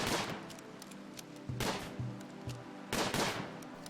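Video game gunfire in Rimworld as raiders shoot at a barricade, three bursts of sharp synthetic shots roughly 1.5 seconds apart, each trailing off quickly.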